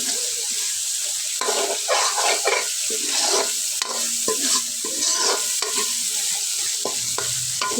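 Spice paste frying with dried fish in a pan, a steady sizzle under repeated scraping strokes of a spatula stirring the mixture, close and fairly loud, no talk.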